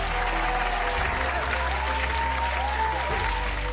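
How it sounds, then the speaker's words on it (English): Dense, roaring applause fills a room at the Heisman Trophy ceremony, a continuous wash of clapping sustained at full volume throughout. "As the applause roared through the room, Jaylen stood there stunned."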